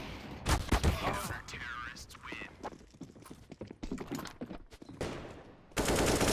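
Rapid gunfire from a Counter-Strike esports match between Falcons and 1WIN, bursts of sharp shots and spraying fire mixed with game effects, ending in a dense loud stretch.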